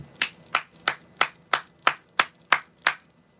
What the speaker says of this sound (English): I'm going to clap to clear the energy real quick